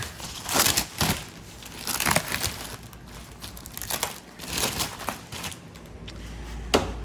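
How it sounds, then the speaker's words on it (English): Plastic covering is pulled off in a series of close, sharp crinkling and tearing bursts, with shorter rustles in between. "We get this plastic off of here."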